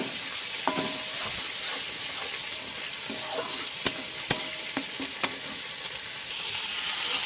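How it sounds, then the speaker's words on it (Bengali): A paste of ginger, garlic, onion, coriander and cumin sizzles hard as it fries, the steady crackle broken by several sharp pops and spatters, heard close with no talking. "দেখুন মশলাগুলো কষিয়ে নেব।"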